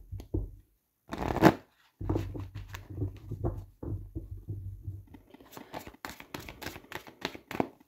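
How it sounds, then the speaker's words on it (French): A deck of cards is shuffled at close range in several quick riffle bursts separated by pauses, followed by a run of sharp snapping card flicks, fairly quiet overall. "je vais prendre un jeu de cartes"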